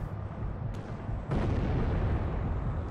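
Enemy gunfire in the World War II shooter Sniper Elite during a U-Bahn station mission: a sharp single shot, then a loud, dense rumbling barrage of fire and blasts that carries on steadily to the end.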